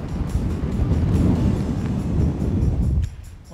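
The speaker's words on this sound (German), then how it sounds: "Und der Wind dazu noch." Wind buffets a microphone outdoors on a cold day by small forest lakes, a loud, continuous low rumble that eases off near the end.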